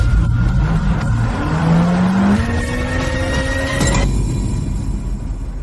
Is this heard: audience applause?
no